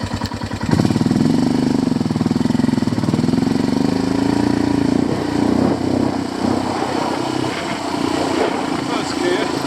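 Royal Enfield Himalayan and Tenere 700 motorcycle engines while riding on Glaisdale and Rudland Rigg, a close, loud, steady throb that rises in pitch after a sharp start, with a rider talking over it.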